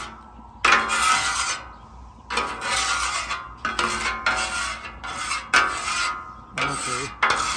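A metal spatula scraping bacon grease across a flat Blackstone griddle, repeated rasping strokes in bursts of about a second with short pauses, close and fairly loud.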